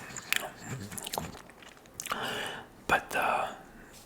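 Close, crisp bites and crunchy chewing of salad in a quiet room, several distinct crunches in bursts with soft whispering between them.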